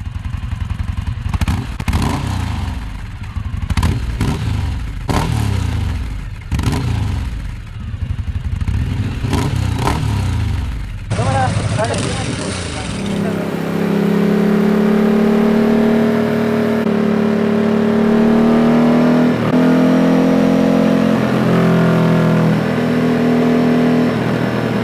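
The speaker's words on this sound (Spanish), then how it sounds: "El sonido del escape es una verdadera locura." A Ducati Multistrada 1200 with a MIVV full-system exhaust revs in sharp, rapid blips, then settles into a steady, loud, rising engine drone as it rides off, heard close with no talk.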